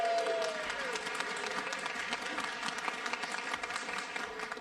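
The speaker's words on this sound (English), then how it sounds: "Please give a round of applause for Suzanne." An audience at a mandolin orchestra concert gives steady applause for the bass player, moderately loud clapping with faint voices mixed in.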